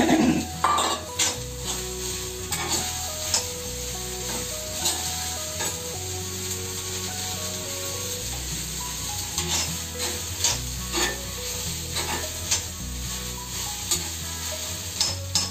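Finely chopped onions sizzle steadily in a hot kadhai. A spoon scrapes and clinks against the pan at irregular moments as they are stirred, and no one speaks.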